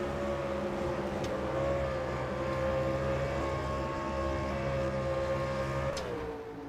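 Stock cars racing in the Ally 400 at Michigan in a racing video game, a steady, droning chorus of engines holding pitch before one car's tone drops near the end, with no talking.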